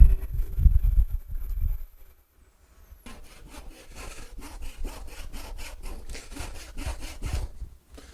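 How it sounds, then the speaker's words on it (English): A hand saw cuts through a wooden bowl blank mounted on a lathe, making rhythmic back-and-forth rasping strokes close by after a brief stretch of handling noise. "and then I will use a saw"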